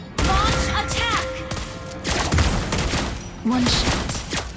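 Gunfire from the Mobile Legends game character Lesley's sniper attacks cracks out in dense bursts amid busy battle effects and game sounds, with several sharp loud shots clustered together.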